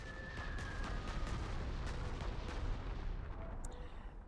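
Muffled artillery fire in the war strategy game Panzer Corps 2, a faint, steady rumble of distant booms and blasts running throughout with no voices.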